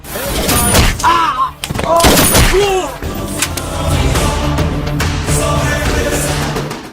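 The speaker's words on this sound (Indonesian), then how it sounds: "Gauri menembak semua orang yang ada di dalam ruangan tersebut hingga semua tewas bersimbah darah." Gunfire in an Indian action film, a burst of sharp loud shots and thuds in a room shootout, followed by a dense continuous mix of loud action sound and music.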